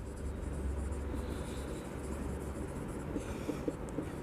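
Average profit figures being written on a board during an accounts class, heard as a steady close scratchy stroke noise against a constant background hiss, with no talking.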